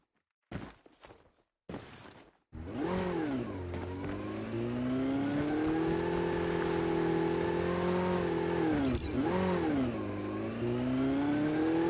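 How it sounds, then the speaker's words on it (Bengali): A motorbike engine in a video game starts after a few short bursts, revs up and holds a loud, steady drone, dipping and rising again briefly before settling; no talk. "তো বাইক নিয়ে যাই, বাইক পেয়েছি"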